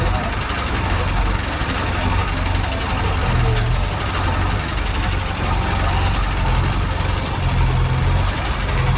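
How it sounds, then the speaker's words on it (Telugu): A large crane hauls a flood-stranded car out with a rope, its heavy engine giving a steady, loud low rumble that runs unbroken throughout. "కార్కి రోప్ కట్టేసి క్రేన్ సహాయంతో బయటికి లాగే ప్రయత్నం అయితే చేస్తున్నారు"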